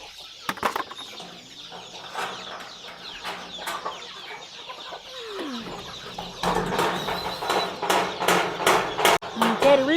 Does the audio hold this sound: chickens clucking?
yes